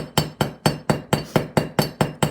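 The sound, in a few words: riveting hammer striking hardened metal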